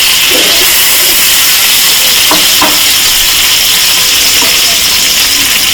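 Masala fish fries in hot oil with a loud, constant sizzling hiss that fills the whole stretch, broken by a few faint crackles and pops.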